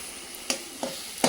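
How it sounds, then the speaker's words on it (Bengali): Leafy greens fry in a home kitchen pan while Bengali New Year dishes are prepared, giving a steady hiss broken by three sharper stirring scrapes. "এই শাক ভাজাটা হলেই শেষ"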